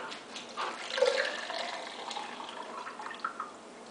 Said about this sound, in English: I'm gonna pour it in there.